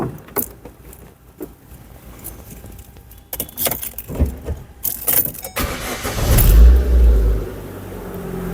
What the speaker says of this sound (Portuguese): deixa eu dar partida no carro agora